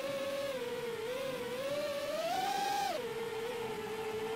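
Racing drone motors in an FPV miniquad simulator game give a steady, high, whining buzz at full throttle, sliding up in pitch, peaking, then dropping sharply before holding level again.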